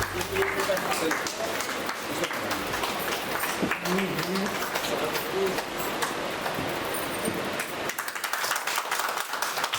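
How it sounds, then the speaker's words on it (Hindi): Enthusiastic clapping from a crowd at a celebration event in India, dense irregular claps at moderate volume mixed with voices talking, fading somewhat toward the end. "जोरदार ताली बजाइए"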